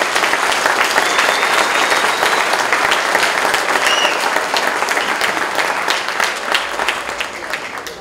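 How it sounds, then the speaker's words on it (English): After a spring choir concert, an audience breaks into sustained, dense applause, many hands clapping at once and staying loud before tapering slightly at the end. "So let's give them one more round of applause."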